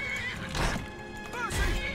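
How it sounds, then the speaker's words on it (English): Horse whinnies twice in the Skyrim video game, each call a rising then falling neigh, close and fairly loud, with combat noise and a voice in the background. "I'll let my horse kill you."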